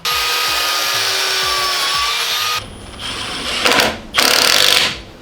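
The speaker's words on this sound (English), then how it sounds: "I'm also going to cut the self-tappers off in here in case we bottom out and we hit the wheel well" A power cutting tool slices off self-tapping screws inside a car wheel well, a loud steady whine that drops away partway through, then returns in two short bursts near the end.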